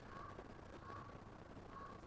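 A crow caws repeatedly in The Legend of Zelda: Breath of the Wild, three evenly spaced harsh calls over a soft, continuous ambient background, fairly faint and with no one talking.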